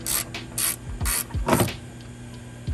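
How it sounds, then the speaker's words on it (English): A ratcheting tool clicks in quick bursts while screws are backed out of a Lexus IS300 taillight, with several sharp ratchet runs and short pauses close by, no speech. "Unscrewing the screws."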